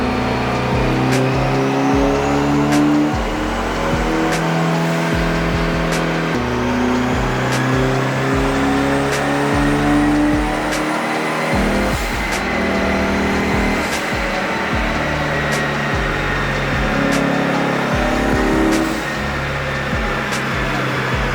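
A Mitsubishi Evolution VIII race car runs hard on a dyno, engine note climbing and dropping through repeated rev sweeps, loud and close throughout with no talk.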